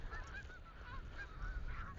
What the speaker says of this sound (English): Oh, the geese are off.